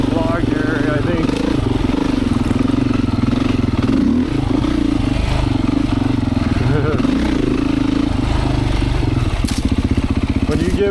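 A Beta 500 dirt bike motor runs loud and close on a trail, rumbling steadily with throttle surges and rough revving throughout.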